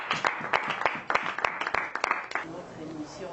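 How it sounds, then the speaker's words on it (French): Rhythmic clapping from a congregation acclaiming the king during a church service, a steady run of sharp claps over voices that fades out after a few seconds. "Acclamons pour le roi du roi"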